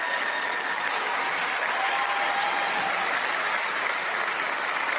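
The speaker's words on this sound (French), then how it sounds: "Merci d'applaudir notre mascotte." Audience applause greeting the official unveiling of the Dakar Youth Olympic Games mascot, a steady dense clapping from a crowd that holds at an even level throughout.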